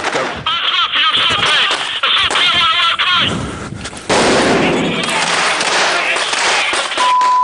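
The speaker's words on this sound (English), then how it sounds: "The stun grenades and the gunfire are supposed to disorientate the enemy." Stun grenades and gunfire burst out in rapid succession, sharp cracks and booms mixed with shouting voices, close and chaotic.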